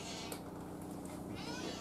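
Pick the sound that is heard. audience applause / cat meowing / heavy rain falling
cat meowing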